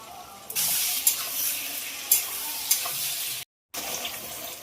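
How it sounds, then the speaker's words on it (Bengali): Potatoes, onions and tomatoes fry in a pan for a boal fish curry, giving a steady close sizzling hiss with a few sharper crackles and one brief dropout. "আলু পেঁয়াজ একসাথে ভাজা হয়ে গেছে, দিয়ে দেবো কেটে রাখা টমেটো"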